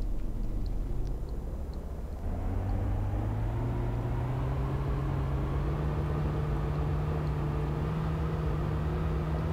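Steady engine drone of a car driving down a dirt farm track in DayZ, a low continuous hum that shifts slightly in pitch after a couple of seconds and stays loud throughout, with no talk.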